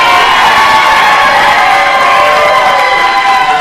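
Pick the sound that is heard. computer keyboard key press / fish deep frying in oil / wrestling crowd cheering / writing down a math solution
wrestling crowd cheering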